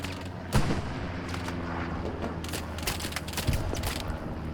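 Heavy gunfire and distant explosions from a Hell Let Loose battle at El Alamein, with a few loud booming shots standing out over a constant rumbling din of combat.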